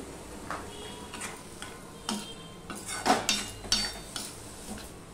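A spoon scrapes and clinks against a pan while vegetables with salt and turmeric are stirred together, giving a series of light, irregular taps and scrapes at close range.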